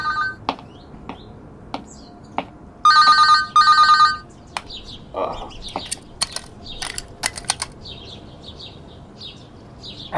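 A telephone bell rings in two short, bright bursts close by, set among scattered clicks, taps and light knocks in an otherwise quiet room.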